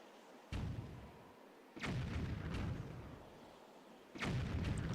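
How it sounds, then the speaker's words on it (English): Cannons fire in The Legend of Zelda: The Wind Waker HD, three heavy booming blasts spaced a second or two apart, each followed by a rumbling tail, with no talking. "So there are cannons firing at..."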